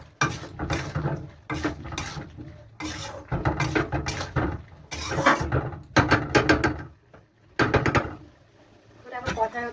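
A spoon stirs chili powder into a home-cooked curry in a pan, making repeated close scraping and clinking strokes in uneven bursts with short pauses between them.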